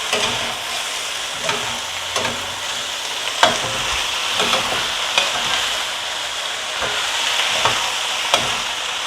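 Potatoes and onion fry in a well-oiled pan over medium-high heat, with a constant hissing sizzle broken by regular scraping clacks of stirring every second or so, close and fairly loud.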